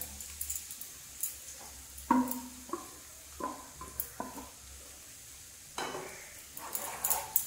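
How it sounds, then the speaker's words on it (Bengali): Garlic frying lightly in a pan for a Bengali garlic chutney, with dried chili paste then stirred in: a soft sizzle broken by several distinct scrapes and clinks of a spoon against the pan. "রসুনটা একটু হালকা ভাজা হবে, তারপরে দিয়ে দেবো আমি পেস্ট করা শুকনো লঙ্কাগুলো"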